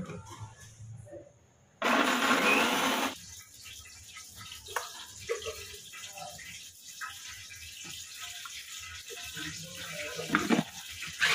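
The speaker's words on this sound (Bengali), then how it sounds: "জিরাটা পেস্ট করে ফেলি।" An electric blender grinds cumin seeds into paste in a home kitchen, a loud whirring burst lasting about a second and a half, followed by quieter clattering kitchen sounds.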